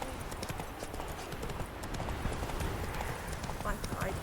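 Roach, a horse in The Witcher 3, gallops with rapid, continuous clip-clopping hoofbeats, close and dense, with a voice speaking over the running hooves.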